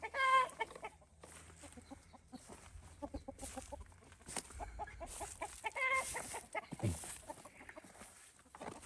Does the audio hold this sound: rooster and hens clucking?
yes